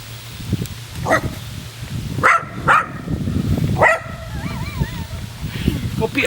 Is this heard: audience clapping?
no